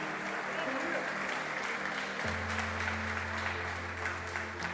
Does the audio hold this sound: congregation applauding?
yes